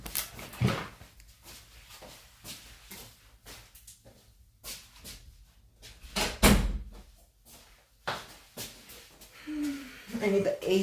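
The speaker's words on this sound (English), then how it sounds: "let me close my door now" A room door swung shut with a solid thud partway through, amid scattered knocks and handling noises during a nail-salon session; a person talks around it.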